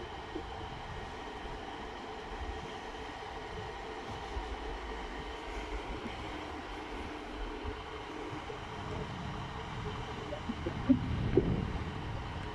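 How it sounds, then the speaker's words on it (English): Northern Trains Class 150 Sprinter unit 150211 idles at Scunthorpe station with a low diesel rumble and station ambience that swells louder near the end as the engine revs. "This is a very nice Class 150 Sprinter."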